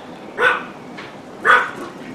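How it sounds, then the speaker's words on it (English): Neighbouring dogs bark outdoors at a distance, two separate bark bursts about a second apart over a quiet background. "Neighbor's dogs are barking."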